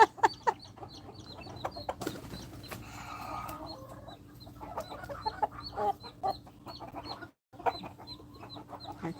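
Backyard chickens cluck steadily with short, sharp calls scattered across the clip, including a young rooster, at close range with no talk over them.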